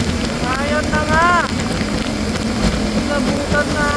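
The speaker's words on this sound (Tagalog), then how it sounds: "nabutan na ako ng mga lakas na ulan." Heavy rain from a typhoon pours down around a delivery vehicle on the road, a dense, loud, continuous hiss and patter with brief whistling tones rising over it.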